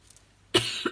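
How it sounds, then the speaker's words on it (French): A single sharp cough bursts out close and loud after near silence, followed a moment later by a second, shorter cough. "excusez-moi, je tousse un peu"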